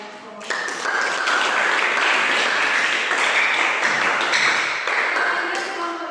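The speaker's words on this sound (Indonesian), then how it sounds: "tepuk aplaus buat kelompok" Sustained loud applause and clapping from a school class cheering a student group after its presentation, starting abruptly and continuing with a few voices mixed in.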